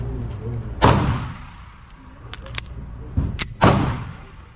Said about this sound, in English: 22 rounds, slow shooting